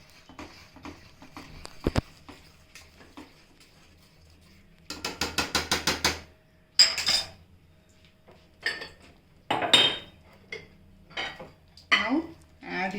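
A spoon stirs a tamarind-seasoned raw plantain pindimirium in a pot, giving bursts of rapid metallic scraping and clinking in several separate rounds, with quiet pauses between them.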